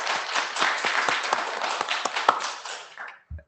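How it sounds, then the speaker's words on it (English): Applause from an audience at an IETF 119 meeting session of the BIER working group: dense, steady clapping for about three seconds that thins out and stops, with a short low thump at the very end. "Everyone give Andrew a big round of applause"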